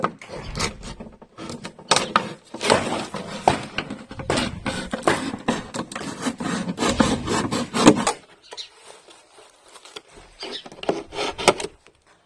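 A blade rasps and saws through a plastic container being cut into a garden pot, in repeated scraping strokes. The rhythm is irregular and close by, with a short pause before quieter strokes resume.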